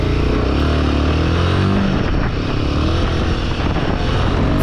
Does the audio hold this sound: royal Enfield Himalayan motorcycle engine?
yes